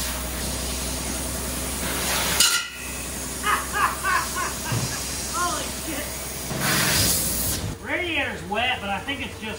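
Hissing spray bursts aimed at the running engine of an abandoned 1954 Chevy, checking for leaks, come in short loud blasts between stretches of someone talking near the engine's low hum.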